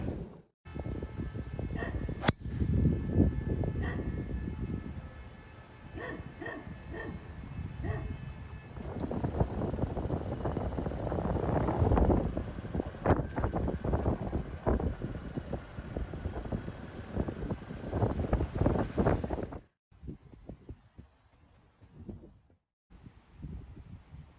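Cold wind gusting across an open golf course, a loud continuous buffeting rumble on the microphone for about twenty seconds before it drops away to near quiet.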